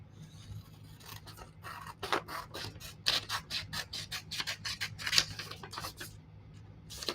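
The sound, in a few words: scissors cutting paper for DIY Halloween book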